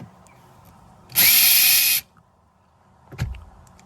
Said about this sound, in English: I like using a drill to remove these